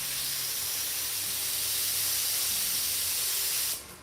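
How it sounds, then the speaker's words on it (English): Spray gun shooting cobalt blue candy paint over a metal flake base, a steady close hiss of atomized spray lasting several seconds before cutting off abruptly near the end. "Now I'm coming back with cobalt blue, and I'm shooting it over everything."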